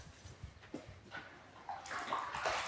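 Water splashes and gushes while a rainwater storage container is rinsed clean, starting faint and intermittent, then swelling into a louder, continuous rush toward the end.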